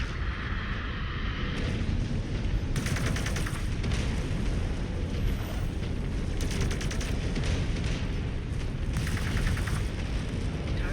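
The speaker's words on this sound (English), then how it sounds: "All units, watch those artillery impacts." Continuous dense barrage of artillery impacts and gunfire in a mech combat game, loud and unbroken across the whole stretch, with repeated crackling bursts layered over a heavy rumbling roar.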